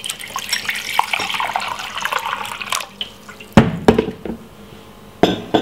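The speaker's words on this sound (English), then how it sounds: "So pour some hot water into a glass with a spoon." Hot water pours into a glass holding a spoon while a dessert is prepared, a splashing trickle with clinks followed by a pause and then a few sharper bursts of pouring and rattling.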